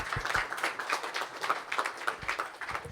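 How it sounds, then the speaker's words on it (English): A modest conference audience applauds a presenter at a usable security and privacy symposium, a fairly quiet patter of individual claps from a small group, sparse and uneven. "Let's give a round of applause again."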